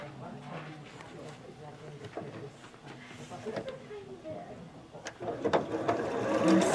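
A sewing machine stitches seams on a quilt block, its soft mechanical whirr running fairly close and rising toward the end, with a person talking over it.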